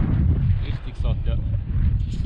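Gusty wind buffets the microphone during an autumn mountain bike tour on high alpine trails near Bormio, a continuous low rumble with a voice talking over it.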